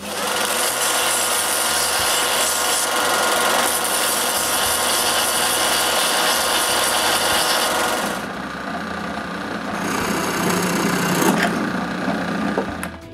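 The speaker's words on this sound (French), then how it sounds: "je peux couper le goujon à sa bonne longueur et arrondir les bouts" A wooden dowel is cut to length with a steady, close, buzzing saw that runs continuously for several seconds and then shifts to a lighter, thinner tone.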